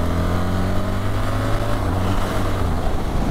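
BMW R1300 GS motorcycle engine revving hard during roll-on acceleration: a loud, continuous, steady engine drone with strong wind rush over it the whole time.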